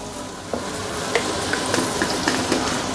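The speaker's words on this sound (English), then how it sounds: "now I'm adding my powder, yeah. So approximately 1 tablespoon of coriander powder," A curry base for fish head curry sizzles steadily in a pan as coriander powder is added with the heat switched off. Soft stirring taps sound every half second or so over the continuous frying hiss, with no voices.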